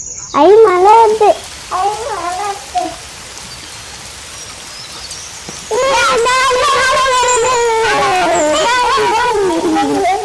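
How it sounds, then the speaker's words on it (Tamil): Rain falls in a Tamil children's forest cartoon, a constant hiss of raindrops under bursts of animated character voices. "ஐ மழை வந்து"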